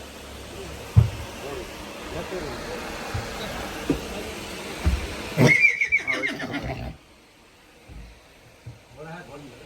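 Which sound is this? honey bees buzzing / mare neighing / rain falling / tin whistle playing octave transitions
mare neighing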